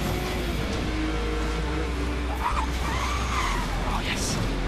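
A car drifts in Need for Speed Most Wanted, its engine droning steadily as the tires give out short squeals and skidding noises, close up, with a player talking over the driving.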